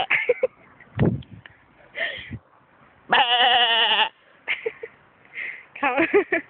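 A person imitates sheep bleating with a run of wavering, nasal baa calls, one long loud bleat in the middle and shorter ones around it, heard up close with gasps and snorts between.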